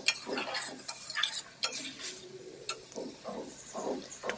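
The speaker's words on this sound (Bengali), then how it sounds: "এবারে সামান্য জল দিয়ে একটু ভালো করে কষিয়ে নেব।" Vegetables being stirred and fried with spices and a little water in a pan, with repeated scraping and clinking of a spatula against metal over a soft sizzle, close and fairly quiet, no talk.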